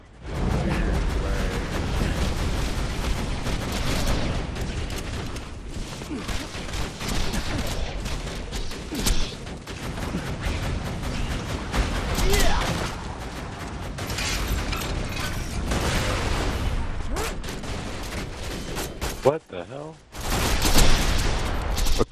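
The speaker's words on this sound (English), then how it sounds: "they're shooting these crazy ass lasers out of them" Enemy laser fire in Borderlands 2's Tiny Tina's Assault on Dragon Keep, a dense, loud stream of rapid zapping shots with mechanical clatter that runs almost continuously, breaking off briefly near the end before resuming.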